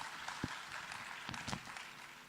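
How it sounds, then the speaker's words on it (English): Audience applause for a speaker at a CEO forum, a fairly quiet, dense spread of clapping with a few sharper claps standing out, continuous across the clip with no talk. "Please give him one more round of applause."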